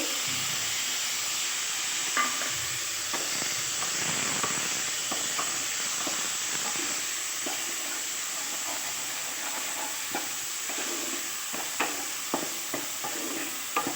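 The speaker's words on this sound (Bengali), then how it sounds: "এখানে কেটে রাখা টমেটো আর কিছুটা মটরশুঁটি দিয়ে নেব" Chopped tomatoes and peas hit hot oil with cumin seeds in a pan for a paneer dish. A loud, continuous hissing sizzle runs throughout, with scattered small pops and utensil clicks and no voices.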